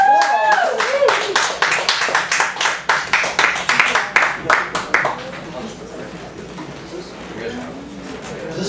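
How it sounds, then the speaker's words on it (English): A burst of enthusiastic clapping from an open mic comedy audience, with a voice at the start, then tapering off into quiet murmuring and room noise. "big round of applause."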